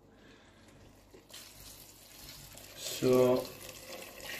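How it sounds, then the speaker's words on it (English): Vegetable stock poured into a pot of wild garlic and nettle soup, a short burst of splashing liquid rising over faint background noise, with someone speaking briefly beforehand. "we're going to add in some vegetable stock"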